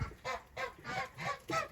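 Ducks quack loudly and insistently on a rainy day, five harsh honking calls in quick, even succession, close by with no talk.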